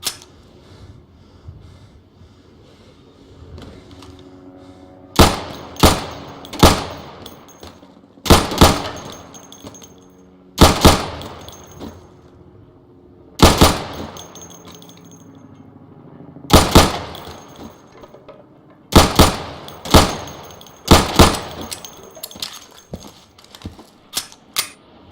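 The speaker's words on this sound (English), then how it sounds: "So you can shoot accurately over 20 feet with your sidearm" Sidearm pistol shots fired at pop-up targets on a training range in the video game Insurgency, single crisp reports spaced irregularly, sometimes in quick pairs or triplets, with quiet gaps between.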